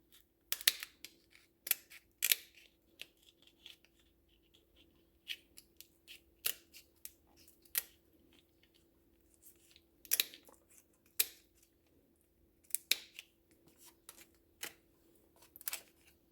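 Kitchen scissors snipping through lobster shells, sharp isolated crunching clicks in irregular clusters with quiet gaps between, close up against a faint steady hum.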